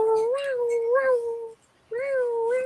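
A cat meows loudly and close in drawn-out, whiny cries, two long calls separated by a brief pause, with no talking.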